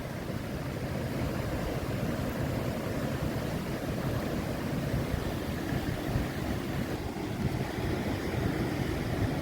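Sea water surging in toward the shore, a steady, loud, unbroken wash of churning water with rushing, windy noise throughout and no voices.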